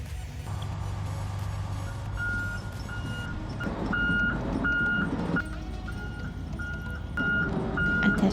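A truck reverses to hook up a trailer, its backup alarm giving a steady series of evenly spaced beeps over a low, continuous engine rumble, close and clear.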